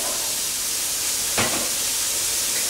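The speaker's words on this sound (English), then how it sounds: "To that we're going to add some Irish whiskey." Irish whiskey poured into a pan of sizzling sweated mushrooms and onions, a steady frying hiss with a brief sharp burst of sizzle midway.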